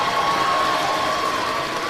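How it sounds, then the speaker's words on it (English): Spectators at a high school volleyball section championship applaud both teams, a steady, moderately loud wash of clapping from a distant crowd with no pauses. "How about a round of applause for both teams for a fantastic effort?"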